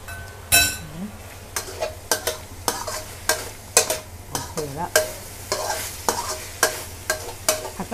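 Basil minced pork with long beans is stir-fried in a pan, a utensil scraping and clinking in a steady rhythm of strokes over a low, constant sizzle, close and clear with no talk.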